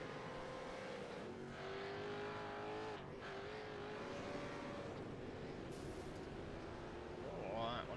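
Race car engines whine and rev in a racing simulator video game at Phillip Island, with a car sliding off the track; faint, steady engine drones with shifting pitch, tire noise near the end, under quiet commentary.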